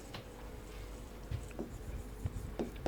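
Chalk or a marker writes on a board during a current-affairs lesson, giving faint, scattered scratches and taps at irregular intervals over a quiet room.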